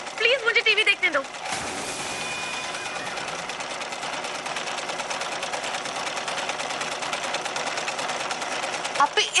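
A household sewing machine runs loud and steady at close range for most of the stretch, a continuous fast mechanical whir, with a voice heard briefly at the start.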